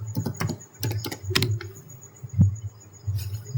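Close, crisp keystrokes on a computer keyboard come in quick bursts and pauses as Cisco switch commands are entered, with a few isolated key taps between clusters and a faint background hum.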